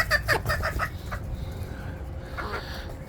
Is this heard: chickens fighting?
yes